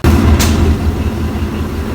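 A train pulls in at a station on the Kandy to Matale line in heavy rain, giving a steady low rumble with a brief hiss early on and no voices.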